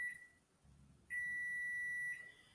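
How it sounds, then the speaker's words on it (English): Kitchen timer alarm going off while Halloween cookies are decorated with royal icing: a faint short beep, then a loud, steady electronic tone held for about a second before stopping, with no talk. "So let me turn the alarm off. Okay, the kitchen timer is off"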